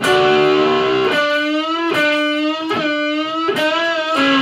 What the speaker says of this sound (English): So that part of the solo together should sound like this